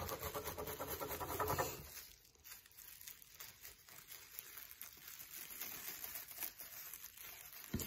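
Scissors snip and crinkle through a plastic trash bag while a kite is being made, a loud rustling cut at first, then quieter crinkling and handling.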